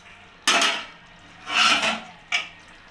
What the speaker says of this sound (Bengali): এবার ঢাকাটা খুলে দেখে নেব।